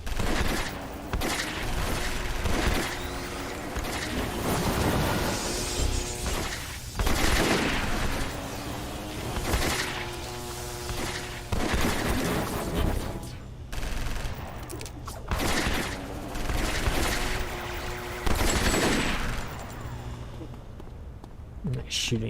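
Repeated bursts of gunfire in the superhero game City of Heroes, rattling volleys and booms recurring through a busy mix of music and effects, with people talking at times.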